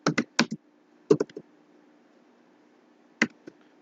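Fingers typing code on a computer keyboard during a C programming lesson: a few quick clustered keystrokes, a pause, then another short burst, close and clear with no talking.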